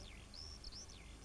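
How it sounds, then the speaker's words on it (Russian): A small bird's call, identified as a 'stuchek', sounds as a few high, sweeping whistled notes over a faint background hum, rising and falling in short arcs across about a second. "Стучек. Птичка такая есть."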